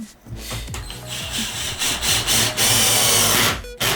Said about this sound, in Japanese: これに長いの 65mm のビス、こちらを打ち込んでみたいと思います。